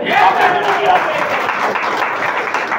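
An audience at a health talk claps loudly on request: dense, continuous applause from many hands fills the room at close range and holds steady for several seconds.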